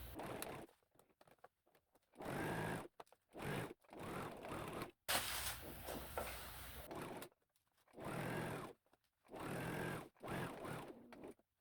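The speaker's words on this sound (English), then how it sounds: "So we have our pockets stitched down" A sewing machine stitches down the pockets on homemade shorts, running in several quick whirring bursts of about a second each, separated by short quiet pauses. The sound is close and clear, with no talking.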